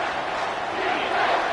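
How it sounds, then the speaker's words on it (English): Stadium crowd at a football game roaring on third down, a dense, loud, continuous wash of cheering and shouting that swells slightly toward the end. "this crowd is tearing the lid off this place"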